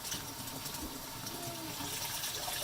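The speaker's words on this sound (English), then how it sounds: "Run some cold water over where the boiling water was residing" Cold water from a kitchen sink tap runs over a kettle that has just held boiling water, a steady, quiet rushing hiss that continues without a break.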